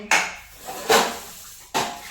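Metal kitchen pots and pans are handled for washing, three loud close clanks spaced apart with ringing decay between them.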